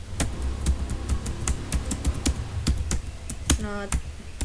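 Quick irregular clicks of someone typing on a computer keyboard, close and fairly soft, ending in a short burst of rapid keystrokes.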